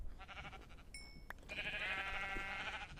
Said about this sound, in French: Je vais juste aller buter un mouton